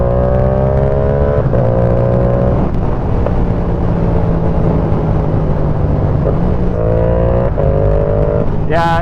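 Yamaha R7 sport motorcycle fitted with a quickshifter, riding past at close range with engine revs climbing and dropping between quick gear changes, loud and continuous.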